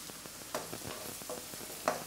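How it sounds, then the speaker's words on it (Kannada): Prawns fry in a pan for spicy chilli prawns, a steady close sizzle with a few soft stirring scrapes and ticks over a short span. "ಇದನ್ನು ಚೆನ್ನಾಗಿ ಫ್ರೈ ಮಾಡ್ಕೊಳ್ಬೇಕು."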